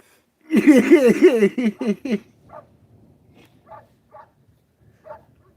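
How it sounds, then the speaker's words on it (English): A dog whining and yelping in a burst of rising, wavering cries, then trailing off into scattered faint whimpers and short yips. "Your dog don't sound happy today."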